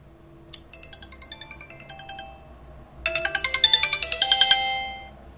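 A ringtone plays through a Sony Xperia Tipo's loudspeaker with xLoud boost on: a sparse chiming melody first, then a louder, rapid run of bright repeated tones that swells before cutting off.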